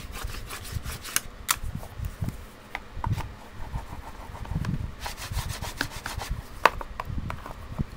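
A bone folder rubbed over paper, producing repeated scraping, brushing strokes with a few sharper ticks, close and fairly quiet.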